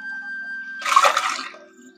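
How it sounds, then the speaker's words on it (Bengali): Prawns are rinsed in water by hand in a kitchen, a short burst of splashing and swishing water that rises suddenly, lasts about a second, and fades, set against a faint steady tone and otherwise quiet surroundings. "এই যে এখন আমি ভালো করে ধুয়ে নিচ্ছি মাছগুলা।"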